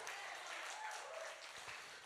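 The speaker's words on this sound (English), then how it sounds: "Somebody clap your hands. Come on, clap real loud." A church or conference audience applauding during a motivational talk, a sustained wash of many hands clapping at moderate distance, easing slightly toward the end.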